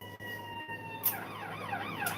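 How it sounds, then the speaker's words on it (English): A distant ambulance siren wails outside, its rising and falling tone swelling then sweeping in repeated cycles under a steady hum, faint and passing, with no talk. "ambulance number 3"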